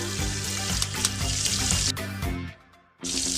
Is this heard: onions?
yes